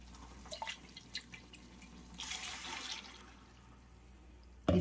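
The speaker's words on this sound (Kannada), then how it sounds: "ಇದಕ್ಕೆ ಸ್ವಲ್ಪ ನೀರು ಹಾಕ್ಕೊಳ್ಳೋಣ." Water is added to a freshly ground tomato and onion chutney: faint drips and trickles, then a softer splashing pour. A sudden thump comes at the end, and no one speaks.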